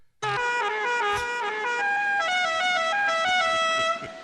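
A loud, sustained multi-tone horn sounds in one long blast after a brief silent start, shifting pitch partway through before cutting off, clear and alone.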